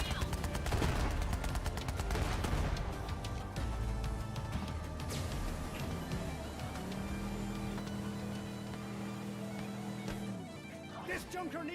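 Rapid gunfire and blasts from the looter-shooter video game Borderlands 3, with dense crackling bursts and booms filling the mix alongside game music and a steady droning tone near the end.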